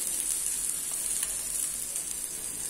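Thalipeeth, a flat Maharashtrian flatbread, fries on a hot griddle with oil added around its edges and into a hole in the centre, giving a steady, close sizzle that holds throughout with no talk.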